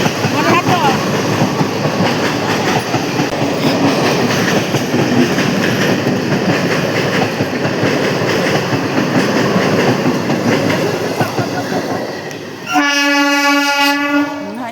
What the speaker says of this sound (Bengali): এই যে ট্রেনটা চলে আসলো, সেজন্য আমাদের ঘরে দাঁড়িয়ে পড়তে হলো ট্রেনটার জন্য।